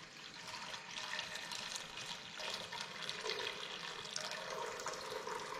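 Thyme tea is poured out to make syrup, a steady splashing stream of liquid running continuously at close range with a slight change in tone partway through, quiet and with no voices.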